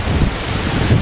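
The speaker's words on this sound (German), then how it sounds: "Ist natürlich wie immer windig, ist klar" Wind blowing steadily on a beach, a continuous low rushing roar with gusty swells and possible surf, loud and close with no voices.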